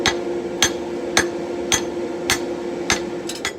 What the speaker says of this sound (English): now I'm just going to go at it with a smaller hammer and try to get it smoothed up